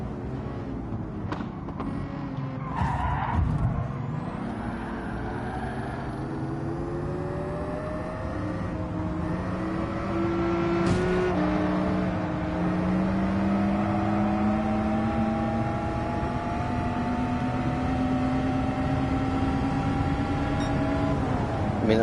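Engine of a car in the video game Gran Turismo 7 whines steadily and rises in pitch as it accelerates along a straight, a continuous loud drone with a brief gear-change dip and no speech.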